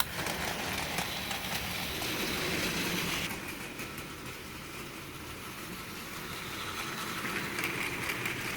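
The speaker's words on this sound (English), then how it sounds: "We're at the railway and here comes Yong Bao's run." Plarail TS-18 toy train running on its plastic track, a continuous whirring, rattling motor and wheel noise that shifts slightly partway through and carries on steadily.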